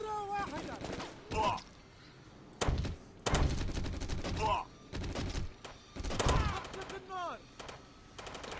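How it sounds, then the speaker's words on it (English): Repeated bursts of gunfire in a Jonathan Kane: The Protector shooting game, with several loud volleys and pauses between them, over a player's excited talking. "Oh, and they shot Mario."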